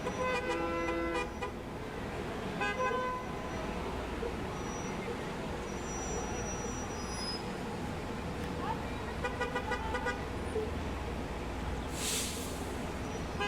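Transit authority buses roll past in an Independence Day parade, sounding repeated horn toots over a steady rumble of engines and street noise, while people talk nearby.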